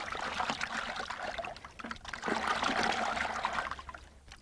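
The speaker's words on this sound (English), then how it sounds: "I'm going to flip this inside out and then get it rinsed out" Water trickling and splashing as pantyhose is rinsed out by hand in a bucket, a steady close dribbling and sloshing with no talk.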